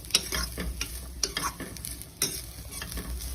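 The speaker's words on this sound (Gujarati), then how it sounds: "હવે આપણે ગાજર એડ કરી દઈશું, મિક્સ કરી દઈશું સરસ રીતે અને સાંતળીશું" Carrots being stirred and sautéed in a pan for crispy vegetable spring roll filling, with a soft steady sizzle and several sharp scraping strokes of the spoon spaced through the stretch, close up and with no talk.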